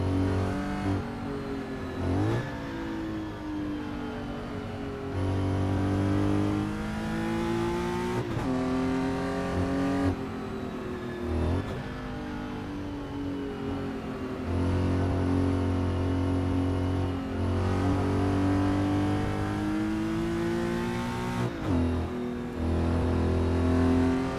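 A 1967 Porsche 911R flat-six, driven around the Schottenring circuit in Assetto Corsa, revs hard and shifts up and down through the gears in a steady loud run with repeated climbs and drops in pitch.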